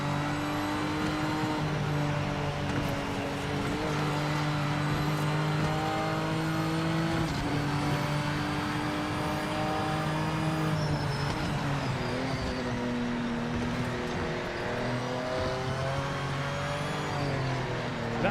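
Race car engine in Project Motor Racing, running steadily and close for the whole stretch, with shifting gear pitches rising and falling and faint tyre noise beneath. No one talks over it.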